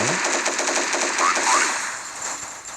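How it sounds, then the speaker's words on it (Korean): Rapid machine gun fire from the shooter game Special Soldier, heard as a dense, loud stream of shots that fades slightly toward the end, with voices faintly mixed in. "쟤 왜 이렇게 총을 쏘고 있대?"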